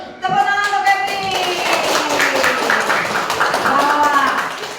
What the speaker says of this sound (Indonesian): Itu tepuk tangan untuk Kevin.